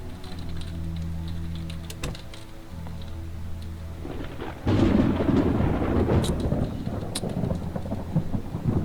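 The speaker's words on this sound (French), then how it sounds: "Cet orage commence à être agaçant." A thunderstorm in a zombie video game: a steady hum gives way to a loud, rumbling thunderclap about halfway through, followed by continuous rain with scattered sharp crackles.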